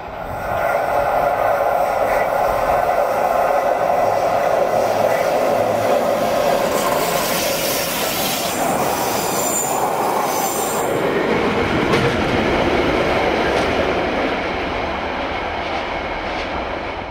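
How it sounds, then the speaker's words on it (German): A cement freight train on the Rhaetian Railway rumbles steadily past at close range, wheels clattering and squealing on the rails, with a high metallic screech midway through. "In Bever sehen wir hier einen Zementzug auf seiner Rückfahrt nach Sammäden."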